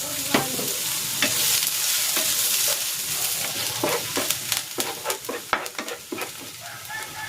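Garlic and onion sauté in hot cooking oil for a stuffed bottle gourd dish, a loud steady sizzle that gives way to repeated scraping and clinking stirs of a utensil in the pan.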